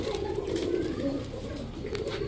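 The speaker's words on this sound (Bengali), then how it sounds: "এরপরে আছে খুলনার গলায় লাল একটা মাদি কবুতর" A female Khulna red-neck pigeon coos softly nearby, low rolling coos repeating through a short stretch, with a voice and other pigeon sounds faint in the background.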